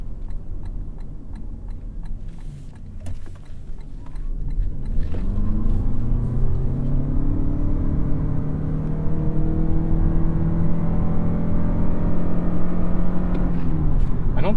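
A 2022 Lexus UX in sport mode pulls away from a stop sign: engine hum swells into a rising, accelerating drone that climbs steadily in pitch, heard from inside the cabin, with a faint ticking before the pull.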